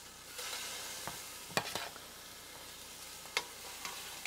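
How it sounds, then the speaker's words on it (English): Salisbury steaks searing in a hot pot give a faint, steady sizzle, with a few soft clinks and scrapes from handling the pan, heard quietly with no talking. "I'm going to put the Salisbury steaks in and we're going to sear these babies down."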